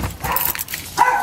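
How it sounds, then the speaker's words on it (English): Dogs at home being teased by a person, giving a few short barks and yips close by over a brief stretch, with a louder yelp near the end. "Look at Anna's going around tormenting the dogs."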